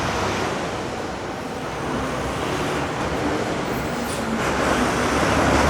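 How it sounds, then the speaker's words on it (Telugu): KSRTC bus pulling into the Kochi bus stand, a steady broad rumble of engine and road noise, close and loud, swelling slightly toward the end amid general terminal din, with no talking. "ఇది ఇప్పుడు ఈ స్ట్రైట్గా వచ్చేది ఆర్టీసీ బస్సు, కేఎస్ఆర్టీసీ."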